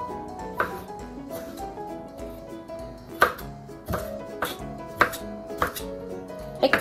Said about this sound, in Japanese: 短冊っていうか細長く切る